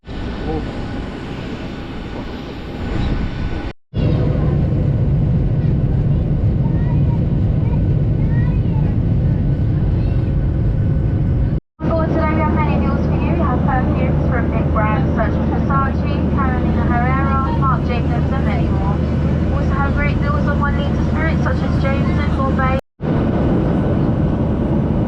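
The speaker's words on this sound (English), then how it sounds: "We're on to the final flight with Ryanair." Inside a Ryanair airplane cabin in flight, a loud, steady low engine drone fills the space continuously, while people talk and chatter nearby over it.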